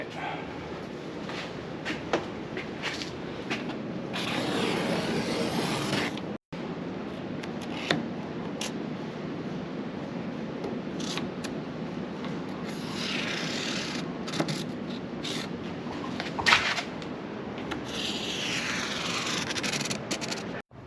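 Sousa oil cooler cardboard box being cut up to trace a titanium sheet template, heard as a long stretch of steady close scraping and scratching with a few sharp knocks and pauses.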